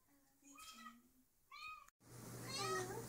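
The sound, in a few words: cat meowing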